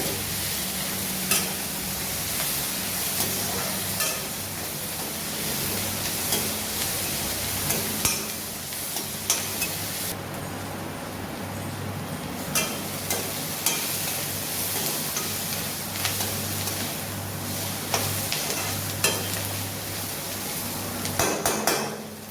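Onions sauté in a pan while idli upma is being prepared: a steady sizzle and fry runs throughout, broken by frequent metal spatula scrapes and clinks against the pan.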